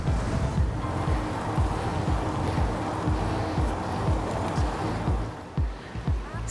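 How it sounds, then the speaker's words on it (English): Lake water slaps and splashes against the rocks of a Toronto shoreline in repeated close hits, with wind rushing over the microphone throughout. "The water hitting the rocks?"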